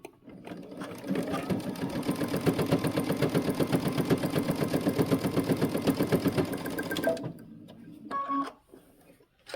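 A sewing machine stitches a jumpsuit seam in a fast, steady run of close needle strokes for several seconds, then slows and stops, followed by a short burst of back stitching.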